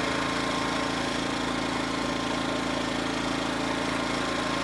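An inverter generator with its smart throttle switched on runs at a steady, loud, continuous engine drone close by, with no voices and no clear change in speed.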